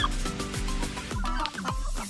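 Several native chickens cluck and murmur nearby in short overlapping calls, with a faint background hum.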